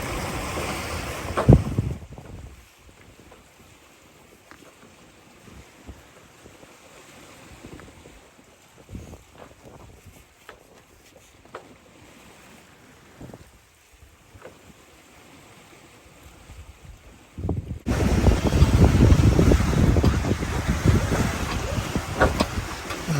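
Steady wind and surf surge around a sailing catamaran leaving the Bay of Islands as the sea breeze builds, quieter through the middle and swelling into a loud, close roar of wind and rushing water toward the end.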